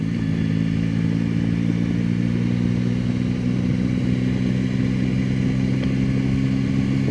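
Motorcycle engine revving hard during a wheelie, a loud, steady low drone with strong harmonics held throughout, close to the listener, with some background clatter and no talk.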